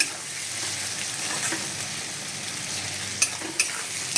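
Tomatoes dropped into frying ginger-garlic masala in a pan, a steady bright sizzle with a few sharp crackles and stirring scrapes near the end, no talk.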